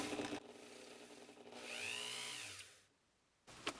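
A drill grinds steadily into wood while setting a stone for a gold ring, its whine rising and falling in pitch, then cuts out, leaving a brief quiet before a short tap.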